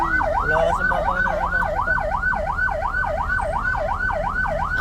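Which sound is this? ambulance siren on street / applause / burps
ambulance siren on street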